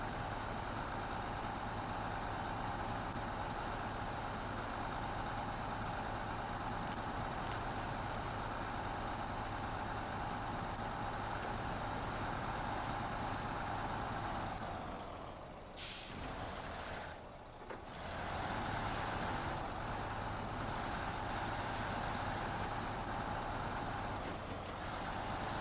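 A heavy truck engine drones steadily while hauling a trailer in the off-road driving game SnowRunner, a continuous loud rumble with a brief dip and air-release hiss midway.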